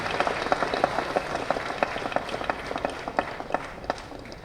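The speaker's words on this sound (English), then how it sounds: "That's an applause that's coming to him decades later" Scattered audience clapping, with distinct individual claps standing out above a softer, steady crowd patter, moderately loud and continuing without talk.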